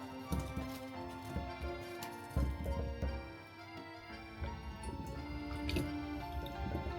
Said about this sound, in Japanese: 梅は水で優しく洗います。